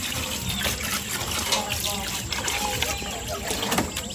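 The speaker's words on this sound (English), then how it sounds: "Let's cool this mango with cold water." Cold water poured over mango to cool it during outdoor village cooking of mango porridge, a steady splashing trickle running throughout, close and moderately loud.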